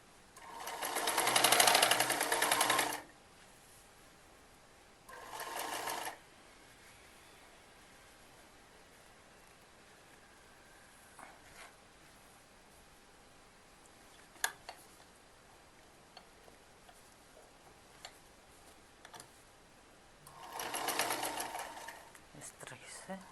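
A sewing machine stitches the neckline of a kurti in three bursts of rapid whirring, one long at the start, a short one, and another near the end, separated by quiet pauses with faint clicks.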